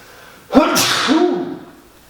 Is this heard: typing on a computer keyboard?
no